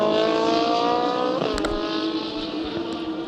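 A Watana McLaren GT race car engine during GT Asia qualifying, a loud sustained high-revving drone with a brief dip in pitch partway through. A quick click or crackle sounds as the engine holds on near and steady.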